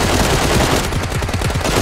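Rapid automatic gunfire from a video game, a loud, dense burst of continuous shots rattling close by.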